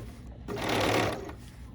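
A Bernina 535 sewing machine stitches sashing onto a quilt block in a classroom, one steady whirring run of about a second that swells and fades, with no talking.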